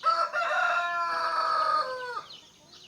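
A chicken crows loudly and close by in one long drawn-out call lasting about two seconds, then trails off into quieter background noise.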